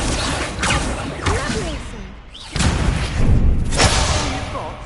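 The Accio spell is cast in the video game Hogwarts Legacy, with a loud swooshing magical burst and heavy thuds, close and full, and brief voices around it.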